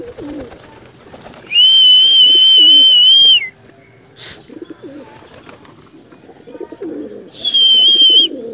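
Pigeons in a loft give two long, steady whistling coos, the first lasting nearly two seconds and the second shorter, with soft rustling and faint chatter between them.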